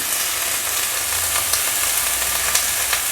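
Vegetables frying in hot oil with mustard seeds and turmeric in a pan, a loud steady sizzle with occasional crackles and stirring, no talk.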